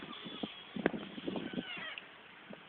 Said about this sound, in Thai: เราเกาะติดถึงการต่อยกันนะครับ กองแมวที่ชื่อ กาฟิวกับ กาโด